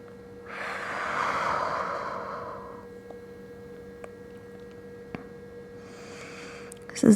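A slow, deep breath in and out during a stretching routine, close and soft, followed by quiet stillness with faint ticks and another breath beginning at the end.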